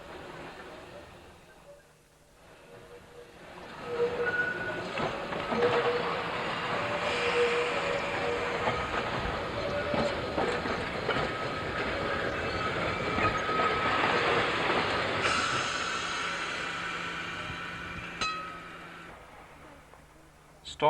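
An Isle of Man electric railway tramcar rumbles along its track with steady clicking and clattering wheels and occasional squeals, past cliffs and countryside, while a narrator talks over it.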